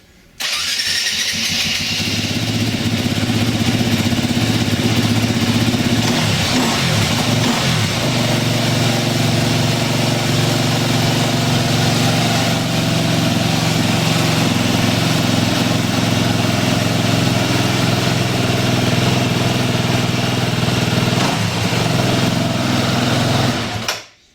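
A KTM EXC dirt bike engine starts up and runs steadily, a loud, close buzzing idle with occasional revs, continuing for over twenty seconds.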